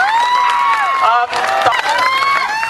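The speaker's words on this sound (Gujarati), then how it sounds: "તાળીઓના ગરગડાટ સાથે તેમનું ભવ્ય સ્વાગત કરીશું આપણે." A large crowd at an Aam Aadmi Party rally for Chaitar Vasava, roaring and cheering with shrill whistles and shouts under a constant mass of applause, loud and continuous.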